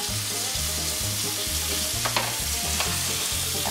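Brined chicken wings fry in hot oil, a dense crackling sizzle with gentle stirring sounds, steady and close, heard alone with no voices.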